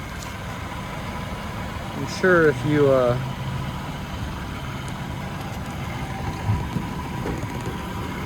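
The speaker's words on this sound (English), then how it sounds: "And right now we're in idle. That kind of shows you how quiet this car runs." A Mercedes 190E sits at idle with the hood open, its engine a quiet, steady low hum running throughout while someone talks briefly over it.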